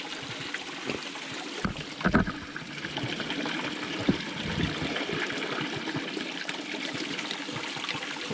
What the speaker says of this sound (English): We got the cold water coming straight out of the earth there.